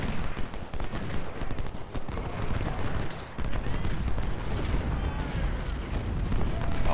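Artillery and rifle fire from the Ultimate General: Civil War video game, a dense continuous rumble of booms and volleys that holds steady and loud for the whole stretch with no break.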